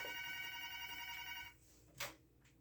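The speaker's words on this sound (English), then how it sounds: "My hotel phone's ringing." A hotel room telephone rings steadily with a bright electronic bell for about a second and a half, then cuts off, leaving quiet room tone and a faint click.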